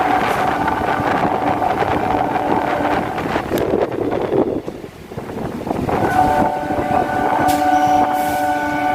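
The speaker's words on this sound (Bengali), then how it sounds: "ছুটে চলেছে রেল।" A passenger train runs past on the Sealdah to BBD Bag line in Kolkata, near a park. Its loud, continuous rumble of wagons carries strong tonal hums that dip briefly midway and then return.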